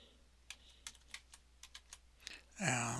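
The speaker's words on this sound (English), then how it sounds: "So we're typing in add user, all in one name, space Fred." Irregular clicks of typing a Linux adduser command on a computer keyboard, quiet and close, about a dozen keystrokes before a person begins speaking at the end.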